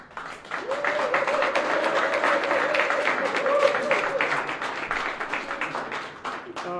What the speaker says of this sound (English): Let's give her applause.